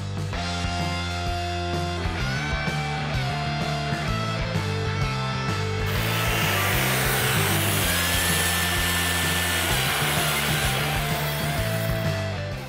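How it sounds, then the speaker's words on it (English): A gas-powered chainsaw carves a wood block, its steady buzzing roar building and holding loud and continuous beneath prominent background music. "I can't believe you're doing that with a chainsaw."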